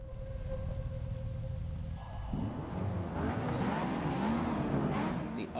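A Mazda RX-7 engine in Forza Motorsport 6 hums steadily, then rises into a louder, rougher rev and keeps building toward the end, with no talk over it.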